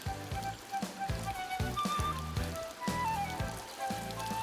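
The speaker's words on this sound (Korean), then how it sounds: "물소리가 아주 그냥 시원하게 들리네" Water flows and splashes steadily nearby in a deep mountain village in spring, a continuous bright rushing with faint rhythmic knocking underneath.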